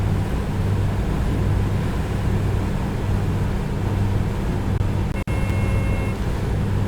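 A simulated A2A Comanche propeller engine in Microsoft Flight Simulator drones loudly and evenly throughout, with a steady low rumble and one brief sharp click near the end.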